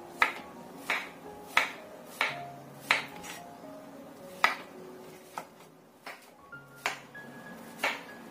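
Mushrooms for an Indonesian green vegetable dish are thinly sliced with a knife, giving a steady run of crisp taps on a board about every second, each with a faint metallic ring, close and unhurried.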